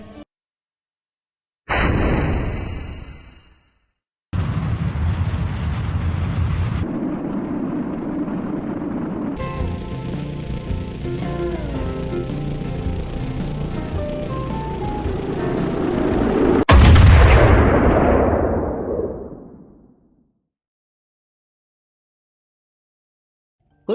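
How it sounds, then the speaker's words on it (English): Heavy artillery barrage in a World War I strategy game: a roaring, rumbling series of shell blasts and engine-like drone building to a loud boom that decays away, with abrupt gaps between bursts. "We need heavy artillery support on the double. Roger. Heavy artillery incoming."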